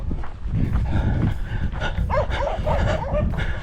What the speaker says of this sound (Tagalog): Matapang yung aso dito.